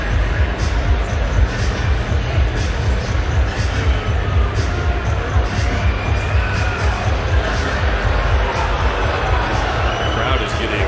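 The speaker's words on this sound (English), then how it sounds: "The crowd is getting restless." Restless crowd at Mackey Arena during a Purdue versus Penn State basketball game: a loud, continuous roar of murmuring and cheering spectators with basketball bounces thudding rhythmically throughout.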